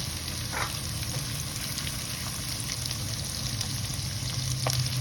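Chopped onion, cut fairly small, sautéing in a pan for homemade alamang, giving a steady close sizzle and crackle with a few faint clinks, no talking over it.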